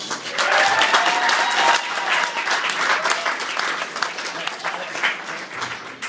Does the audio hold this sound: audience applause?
yes